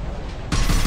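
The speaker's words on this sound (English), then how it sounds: "Flashbang. Shit." A flashbang grenade in Mass Effect 2 goes off abruptly, a loud broadband burst cutting in midway over a constant background of gunfire-like noise.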